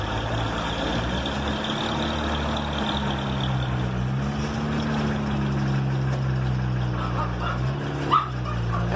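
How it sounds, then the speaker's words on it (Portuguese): A broken-down recycling truck blocking a residential street runs its engine, a steady low drone whose pitch rises and falls as it revs and idles. "É o caminhão da reciclagem."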